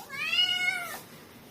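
A pet cat, the household's first, gives a single clear meow lasting about a second, close to the microphone in a quiet room, with no talking over it.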